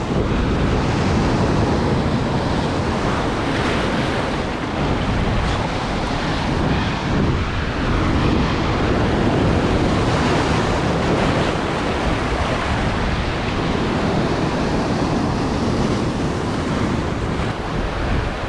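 Big ocean waves breaking on a rocky Australian shore during spearfishing, a loud continuous roar of surf mixed with heavy wind buffeting the microphone, sustained at full strength with no speech.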